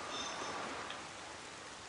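Steady rain and storm noise at sea in The Legend of Zelda: The Wind Waker, a faint, even wash of hiss with no other distinct sounds.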